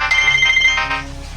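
A mobile phone ringtone plays loud and close, a bright repeating electronic melody running steadily for a moment with no one speaking over it.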